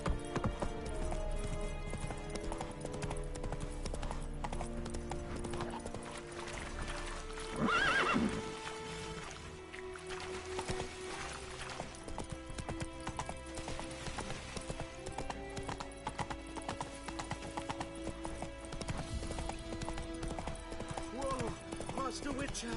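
Roach, the horse in The Witcher 3, gallops with steady rhythmic hoofbeats over game music, and a loud whinny rises in the middle before the hooves carry on.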